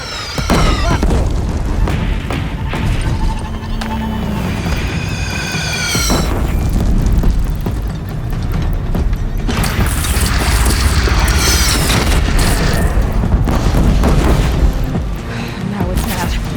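Cannon fire in the video game Horizon Zero Dawn: heavy booming blasts and crashing impacts over a dense, loud battle din, with shouting voices mixed in throughout.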